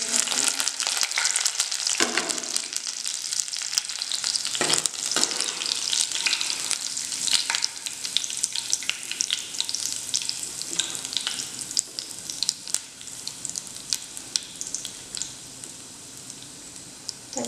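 Mustard and other tempering seeds for a curd brinjal curry fry in hot oil with a loud, steady sizzle and crackle, broken by a few sharper pops and stirring knocks, with no talking.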